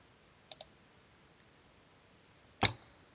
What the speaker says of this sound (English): Can you right click on the back button?